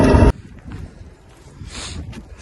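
Blizzard wind buffets the microphone during a roadside wheel change on a truck, a steady low rumbling roar that follows a brief loud burst at the very start.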